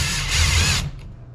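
A power drill with an oversized bit bores out a snowmobile skid rivet, giving a loud, harsh grinding whir for under a second before cutting off abruptly.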